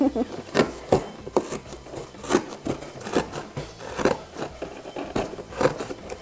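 A blade saws and rasps through cardboard while cutting a shoebox into a toolbox. Close, gritty strokes come in an uneven rhythm of short pulls for several seconds, with faint talking in the background.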